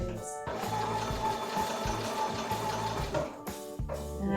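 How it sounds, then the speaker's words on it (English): A sewing machine runs through fabric in a sustained whirring hum with a brief pause and restart toward the end, close by, with faint voices talking alongside. "Oh my goodness, I'm sewing."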